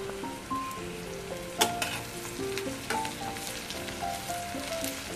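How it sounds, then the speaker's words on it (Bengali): Onion frying in oil in a pan, a steady close sizzle with scattered stirring clatters and a sharp scrape or two, no voices. "এবার প্যানে আরেকটু তেল দিয়ে প্রথমে দেব পেঁয়াজটা অল্প ভাজা ভাজা করে দিয়ে দেব আলু।"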